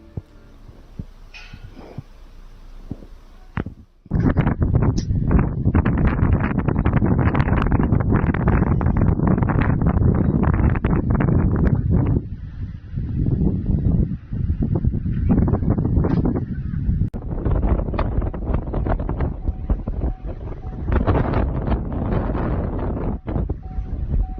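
A massive tornado passes near a city, heard as loud, continuous wind roar and microphone buffeting that rise abruptly after a quieter opening and persist with brief dips, without speech.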